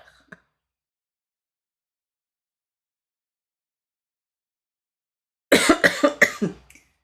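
After a long stretch of near silence, one person coughs several times in a close, loud burst near the end.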